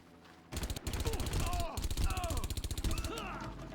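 Rapid machine gun fire in the Far Cry video game, loud and close, with bursts of evenly spaced shots running almost continuously after a brief quiet start.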